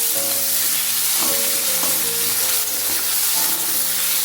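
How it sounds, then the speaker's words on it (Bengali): Chopped tomato frying together with onions in oil, a steady sizzle broken by a few stirring scrapes of the spoon, close up with no speech. "টমেটোটাও ভেজে নিচ্ছি পেঁয়াজের সাথে।"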